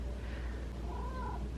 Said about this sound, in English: Isn't that right, Coffee? He's so cute. Oh, he said yeah